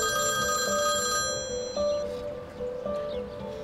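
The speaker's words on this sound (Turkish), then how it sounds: "Ben şu an babamı arıyorum." A telephone rings in repeated bell-like tones with steady harmonic pitches, sounding fairly loud and close over a continuous background, with no talking.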